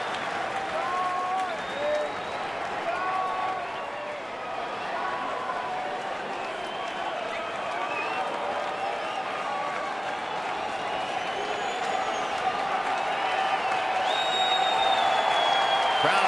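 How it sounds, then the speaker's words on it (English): Spectators at a Rangers-versus-Tigers baseball game in Detroit's stadium roar and applaud in a full, steady wash of crowd noise that builds in intensity toward the end, with a commentator speaking over it. "Crowd coming alive here."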